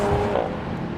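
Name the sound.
Audi RS4 Avant Competition V6 exhaust sound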